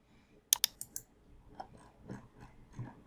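A computer keyboard and mouse click during code copying and pasting: a quick cluster of three or four sharp close clicks, then a few fainter taps and soft handling noises in a quiet room.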